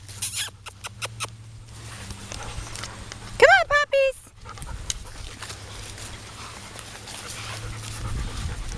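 Six-week-old Welsh puppies pant and give a brief burst of high whimpering yelps, with scuffling of paws and a person speaking over them nearby.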